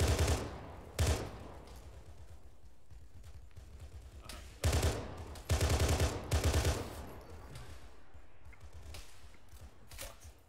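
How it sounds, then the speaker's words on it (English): Bursts of enemy rifle and machine-gun fire in the ArmA 3 military game, loud volleys at about 1, 4.5 and 5.5–6.5 seconds over a steady background rumble, with quieter distant shots between. "contacts close to your northeast firing at us"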